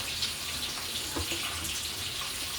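Hot water from a kettle pours in a steady, close splashing stream into a bowl of tahini salad, continuous and moderately quiet with no voices.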